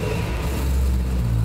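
Bentley Continental GT fitted with an Akrapovic exhaust and ESS supercharger kit, idling with a steady low, throaty rumble, close and continuous without revving.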